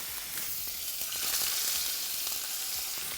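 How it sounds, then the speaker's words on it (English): Scallops searing in a super hot pan alongside steak and onions, a loud steady sizzle with crackling spits throughout and no voices. "Get that last final sear on the steak, and then I'm going to add my scallops. Super hot pan."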